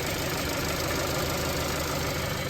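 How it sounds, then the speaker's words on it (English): A Kia or Hyundai car engine idles with a steady, even rumble and faint rhythmic ticking, heard up close with no voices. "I want you guys to listen to the engine"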